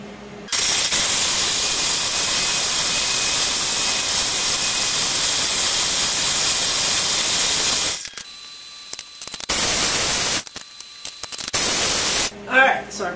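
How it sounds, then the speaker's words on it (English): Blender blitzing pesto as grapeseed oil is poured in, a loud, steady broadband roar running for several seconds before cutting out in short stop-start bursts near the end. "Now we're going to close this up and we're going to blitz this down"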